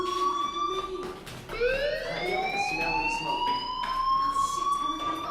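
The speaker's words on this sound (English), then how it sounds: "do you hear that fire alarm?" A fire alarm rings in the Life is Strange game: a harsh electronic siren that cuts briefly, then sweeps upward and holds a steady, piercing wail at moderate level.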